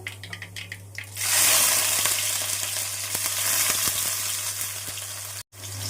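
Sliced onions, green chillies and curry leaves drop into hot oil for a prawn and raw mango curry, and after a few light clicks a loud, close, bright sizzle bursts up and continues over a low steady hum.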